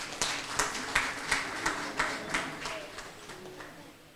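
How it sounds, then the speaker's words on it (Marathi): An audience at the opening ceremony of a senior citizens' competition claps in a short, rhythmic round, with roughly a dozen sharp, evenly spaced claps that fade toward the end. "एकदा सर्वांकडून जोरदार टाळ्या व्हायला हव्या"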